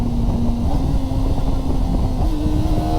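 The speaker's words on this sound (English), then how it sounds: "Oh, it does have a quick shifter down." Kawasaki ZX4RR sport bike engine droning steadily and loud up close, a continuous high-revving buzz with a slight pitch shift as it downshifts on the quick shifter, no talk over it.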